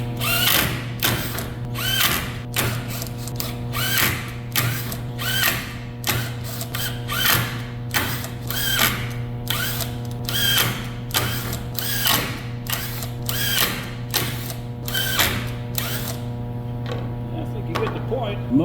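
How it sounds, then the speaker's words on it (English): Impact driver hammering a #2 Phillips diamond-tip screwdriver bit, a steady motor whine broken by dense rapid bursts of impact rattling, repeated in quick succession over and over at close range. "Let's go ahead and throw this guy in an impact."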